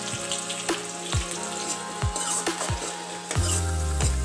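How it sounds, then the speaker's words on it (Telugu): Chopped green chillies and onions fry in hot oil, crackling and sizzling steadily, with occasional sharp pops and clinks from the pan up close. "ఈ పచ్చిమిర్చి లైట్గా వేగిన తర్వాతకి ఇందులోకి ఆనియన్స్ వేసుకోండి"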